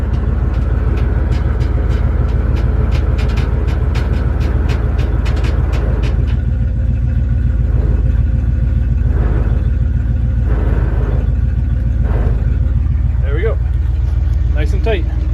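A PTO-driven winch on a 50-year-old ramp truck reels in its cable, giving a loud, steady low mechanical rumble with a rhythmic clatter early on. Engine drone continues throughout, and a person talks over it near the end.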